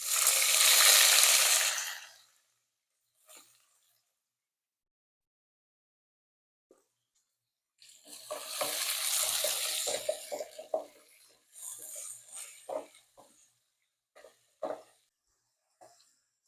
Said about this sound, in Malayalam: എണ്ണ ചൂടായി നമുക്കെല്ലാം ഇടാം